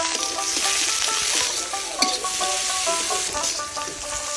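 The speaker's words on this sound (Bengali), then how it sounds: "মশলার জন্য পেঁয়াজগুলো দিয়ে দিচ্ছি" Chopped onions for a spice paste fry steadily in hot oil, a continuous close sizzle with light stirring scrapes running throughout, no voices.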